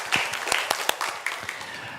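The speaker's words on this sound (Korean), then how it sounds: "하나님께 영광의 박수 올려드리겠습니다" A church congregation claps in praise during a combined worship service, a steady run of scattered hand claps with a few sharper, louder claps standing out, fairly close and continuous.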